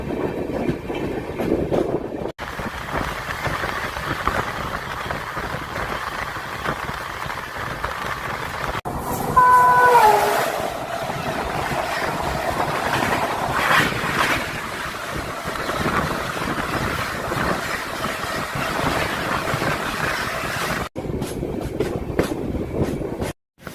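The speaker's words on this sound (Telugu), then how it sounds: "1 మినిట్ ఆఫ్ అఫీషియల్ స్టాప్ తర్వాత ఇక్కడ నుండి డిపార్ట్ అవుతాం." A Palnadu Superfast Express with LHB coaches pulls out of a station platform after a one-minute stop, a steady rumble with wheel clatter and wind buffeting close to the microphone, continuous and loud throughout.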